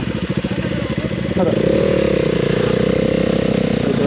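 A motorbike engine on an off-road trail chugs unevenly at first, then catches and settles into a louder, steady close-up idle with a faint rev.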